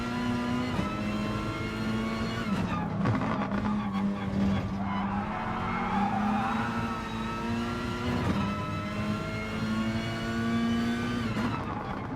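A Peugeot RCZ Group 4 race car in Gran Turismo at Monza, its engine droning steadily as it brakes late through a chicane with sustained tire squeal and skidding, shifting pitch as it slows and accelerates again.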